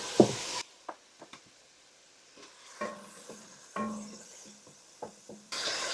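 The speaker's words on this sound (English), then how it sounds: "I'm just going to saute these until they're translucent and soft" Vegetables seasoned with salt and pepper are sautéed in a pan: soft sizzling with intermittent spatula scrapes and stirs, separated by quiet gaps and no speech.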